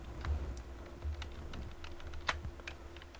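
Quiet, irregular clicks of typing on a computer keyboard, close by, with a low background hum and no talking.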